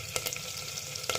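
Garlic and curry leaves sizzle in hot oil with asafoetida for a dal khichdi tadka, a steady close frying hiss with a couple of sharper crackles, and no voices.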